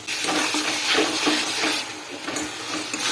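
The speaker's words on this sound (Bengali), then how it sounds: "এরপর মশলাটাকে ভালোভাবে কষিয়ে নেবো" Spice masala with coriander powder and Kashmiri chili powder frying in a pan, a steady loud sizzle and hiss with stirring scrapes throughout.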